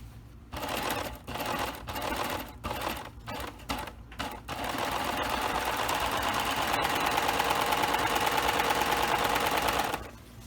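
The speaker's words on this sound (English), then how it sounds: "now that I'm done serging" A serger sewing machine stitches an ironing board cover, its rapid mechanical whirring coming in short stop-start bursts at first, then running loud and continuous for several seconds before cutting off.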